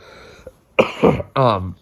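A few rough coughs close up from a person with a stuffy voice, at 3am, two or three harsh bursts in quick succession after a brief quiet moment.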